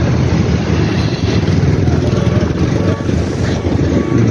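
A hybrid car with its front-wheel engine switched off drives on 2000 W electric BLDC rear hub motors, producing a steady broadband rolling rumble with road and wind noise throughout.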